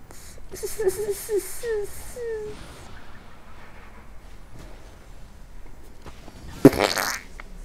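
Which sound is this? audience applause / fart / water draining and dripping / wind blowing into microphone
fart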